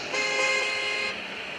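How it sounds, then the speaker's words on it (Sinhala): A bus horn honks in an Indonesian bus driving simulator game. It gives one sustained, loud blare of about a second, then cuts off into engine hum. "මේ බස් එක කවුද මාර හෝන් ගන්නනේ"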